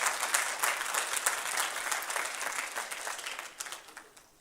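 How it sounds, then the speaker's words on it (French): An audience at a gathering of the Ivorian diaspora in the United Kingdom claps in sustained, dense applause that swells slightly and then tapers off toward the end. "d'applaudir ceux qui ont fait cet effort pour être avec nous"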